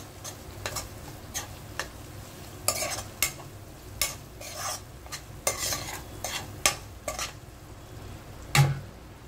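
A spoon stirs turmeric into frying onions for a tomato and dried anchovy (nethallu) curry, sharp intermittent scrapes against the pan over a soft continuous sizzle, with no talking.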